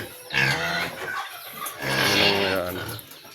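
Chickens clucking on a farm, close and fairly loud in two bursts, with a voice speaking over part of it.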